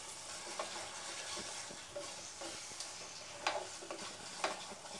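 Malai cream stirred into a shahi paneer gravy in a pan, with soft scraping spoon strokes and faint sizzling under a steady low hiss, at close range with no talking.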